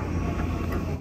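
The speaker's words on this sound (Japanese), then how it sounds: "多摩線からの急行なんですね" Steady rumble and rolling noise of an Odakyu express train from the Tama line arriving at the Shinjuku-bound platform 5, close and continuous, cutting off abruptly at the end with no speech.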